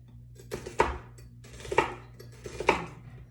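A knife cuts long slices through food on a cutting board in three distinct strokes about a second apart, each ending in a firm knock against the board, close up and otherwise quiet.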